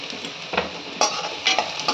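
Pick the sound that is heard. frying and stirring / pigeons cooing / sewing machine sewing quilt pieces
frying and stirring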